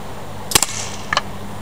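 Byrna TCR launcher firing at a laptop computer in an indoor damage test: two sharp, close pops about half a second apart, each with a quick double crack, over a low steady room hum.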